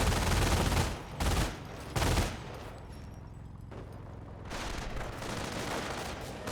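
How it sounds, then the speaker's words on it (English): Rapid gunfire bursts rake a rifle squad in Company of Heroes, loud opening volleys then a dense, continuous crackle of small-arms and machine-gun fire from mid-distance. "They're firing on us!"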